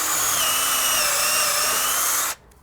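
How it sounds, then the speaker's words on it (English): A power drill boring holes into a log for growing shiitake mushrooms, a loud high whine that holds steady for about two seconds and then cuts off abruptly. "drill between each set of holes on the first row that you drilled"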